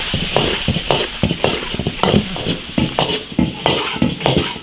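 Meat stir-frying in an iron wok with seasonings: steady sizzling under repeated scraping strokes of a spatula against the metal, close and fairly loud, in an uneven rhythm.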